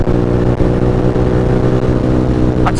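Honda CBR 125 motorcycle engine running steadily at close range with a constant loud drone and faint revs, no talking.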